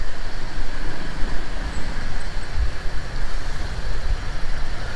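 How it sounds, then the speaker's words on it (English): A truck rumbles past on a narrow road in Bangkok, a steady, loud, low traffic roar that lasts the whole time with no pauses and no talking. "So let me dip in here, let this truck go by."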